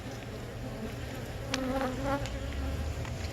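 Honey bees, worker bees crawling over a hive frame, make a dense, steady buzzing hum close by, with a few individual wingbeat whines rising above it and no voices.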